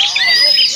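A kacer (magpie-robin) songbird at a bird-training pole gives a loud, close, continuous run of bright whistled chirps and warbles with no talk.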